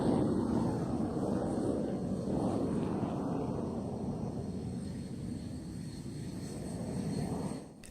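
JF-17 and F-16 fighter jets in flight produce a steady, broad roar of engine noise throughout, swelling slightly as the aircraft reposition, then dropping away sharply at the end.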